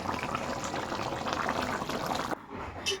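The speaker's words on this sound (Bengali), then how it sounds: "ঝোলটা বেশ সুন্দর দেখো ফুটে গেছে" A curry gravy bubbles in a pot, a close, steady simmering burble that goes on for most of the time, then drops off abruptly near the end.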